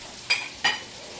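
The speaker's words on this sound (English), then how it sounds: "Now we're going to take our swordfish and we're going to sear it on both sides." Swordfish searing in a hot cast iron pan: two short, bright bursts of sizzle a moment apart, then fading into a low steady hiss, with no talk.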